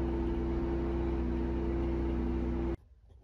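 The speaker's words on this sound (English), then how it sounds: "You might hear the generator." RV generator running steadily outside a camper parked for winter beach camping, a constant low mechanical hum and drone that cuts off abruptly near the end, leaving near silence.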